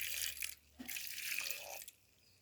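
A small amount of water is poured into a pressure cooker of salted, turmeric-seasoned food in two brief splashing bursts, close and fairly quiet, with a short pause between them.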